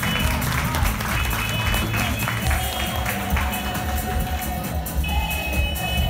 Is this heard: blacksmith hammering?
no